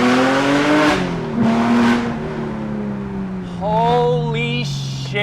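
A 600 hp DeMan 4.5-litre Porsche GT3 engine accelerates hard through the gears, its loud, rising howl broken by quick upshifts, heard close and alone.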